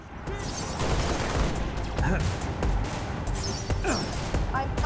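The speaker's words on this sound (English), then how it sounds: "I'm under fire." Chaotic gunfire in a sci-fi shooter video game featuring the Covenant, with steady scattered shots and crashes throughout, loud and close, with voices speaking over the action.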